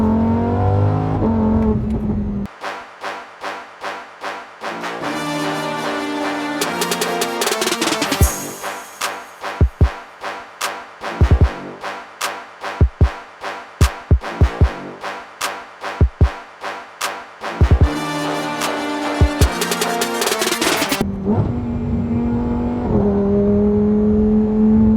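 A Lamborghini Huracan Sterrato engine revs hard on the road, with loud, rising engine tones broken by rapid gear-shift cuts, then settles to a lower drone at the end.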